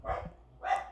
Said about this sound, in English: sorry about my dogs since they're barking